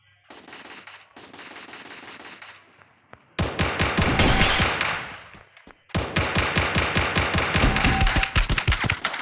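Rapid automatic gunfire crackles in a battle royale video game, first a lighter burst of shots, then two loud, sustained volleys of fast, punchy rounds.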